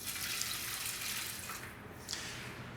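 Water is poured steadily into a pot holding half a cup of green lentils, a continuous, fairly soft splashing rush that eases briefly near the end, with no talking.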